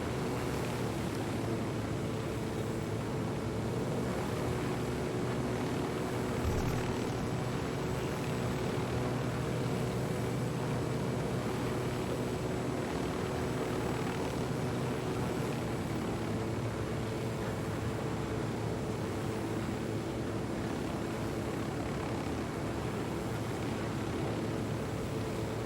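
Aircraft flying in Ghost Recon Wildlands, heard as a steady, droning engine rumble with constant broadband wind-like noise, unchanging and sustained at an even level for the whole stretch.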